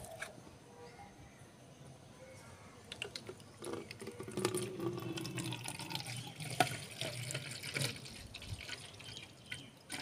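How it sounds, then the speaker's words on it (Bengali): Liquid organic fertilizer solution for potted plants is poured through a strainer into a jar, giving a steady close trickle and splash of liquid with scattered drips, swelling in the middle and continuing to the end. "তো আমি একটা ছেঁকনির সাহায্যে এবার এই দ্রবণটা ঢুকিয়ে নেব।"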